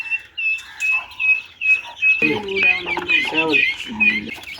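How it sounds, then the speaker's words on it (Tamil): Chickens bought in Vadalur cluck and call near the microphone after being let outside, with a high chirping bird over them and a burst of louder fowl calls midway. "இதுதான் வந்து நம்ம வடலூரில் வாங்கின கோழிங்க"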